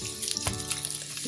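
Onions and garlic sizzle in a pan of hot olive and sesame oil, a short soft frying hiss with a faint clink partway through.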